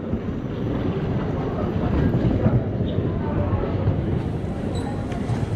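A steady low rumble of a train rolling into a station on the Vienna Airport line, with a broad mechanical roar holding evenly throughout.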